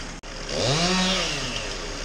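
A large chainsaw revs up and whines steadily as it bites into a tree, loud and close, with the engine pitch rising then holding.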